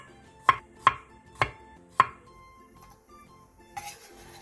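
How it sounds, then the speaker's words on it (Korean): A knife thinly slicing whole garlic cloves on a cutting board, four sharp, evenly spaced chops up close, then a few softer knocks as the work trails off. "통마늘 10개를 얇게 편 썰어주세요."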